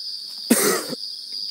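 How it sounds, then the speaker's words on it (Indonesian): A single sharp cough right against a phone microphone, loud and abrupt, lasting under half a second amid a steady high-pitched background hiss. "saya batuk terlalu dekat dengan ponsel"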